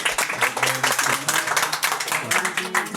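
An audience at a lottery prize draw claps for a winner, a loud burst of clapping mixed with voices or music.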